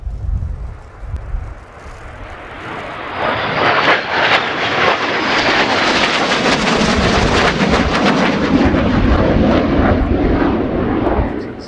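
A Spanish Navy EAV-8B Harrier II+ jet in a flying display at RIAT 2019 builds from a distant rumble into a loud, sustained, roaring jet engine that holds steady overhead for several seconds.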